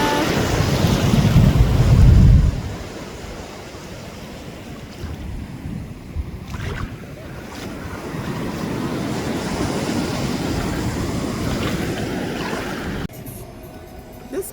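Ocean surf at Cocoa Beach, Florida, washing steadily with heavy wind buffeting the microphone. A louder rumbling surge comes at the start, then a continuous broadband hiss.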